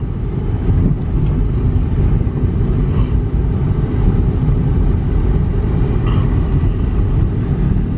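Cheap used $400 car engine accelerating through the gears, a loud, steady low rumble with wind buffeting and faint squeaks, no voices.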